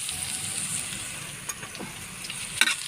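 Garlic and onion sautéing in hot oil for sarciadong galunggong, a close, steady sizzle with occasional stirring scrapes and soft pops.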